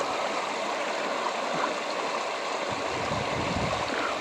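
Constant rushing of flowing river water, steady and moderately loud with a low churning undertone, no voices present.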